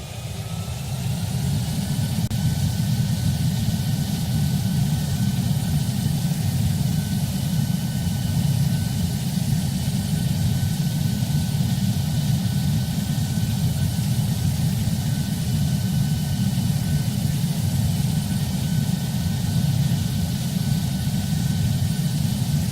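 Ryanair airliner engines spool up for takeoff in a flight simulator game, a steady loud low roar with a constant hum that holds evenly throughout, with no talk over it.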